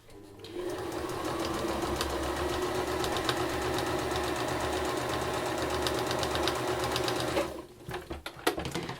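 A sewing machine top stitches quilt-as-you-go patchwork in one steady, fast run of needle strokes, close and loud, then slows and stops with a few clicks at the end.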